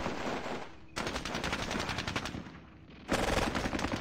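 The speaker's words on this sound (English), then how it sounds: "Let's see if the machine gun can deal with these guys." Sustained machine gun bursts rattle in a World War II squad battle game, two long rapid strings of gunfire with a brief drop between them, the second burst louder and heavier.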